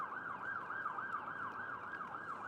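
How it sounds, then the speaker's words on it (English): An ambulance siren wails loud and near in an even, repeating up-and-down sweep, continuous throughout with no voices over it. "Ambulance."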